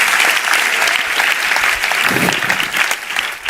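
A church congregation applauds, a loud, dense, continuous roar of many clapping hands that holds steady throughout with little change.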